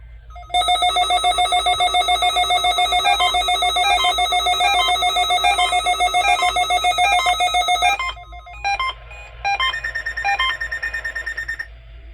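A NOAA Weather Radio public warning alarm test for Florida transmitters: a loud electronic warbling tone sounds steadily for about eight seconds, breaks off briefly, then resumes in shorter pulsing bursts.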